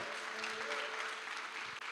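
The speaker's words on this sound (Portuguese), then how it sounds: "Dê o seu melhor aplauso a Ele." A church congregation applauds in praise, a dense, even patter of many hands that sounds somewhat distant and soft, with a sustained tone ringing faintly beneath.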